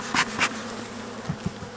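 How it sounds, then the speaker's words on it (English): Honeybees buzzing in an opened hive during a VSH breeder queen check, a steady close drone with a few soft bumps and puffs mixed in. "These bees definitely need a little bit more smoke."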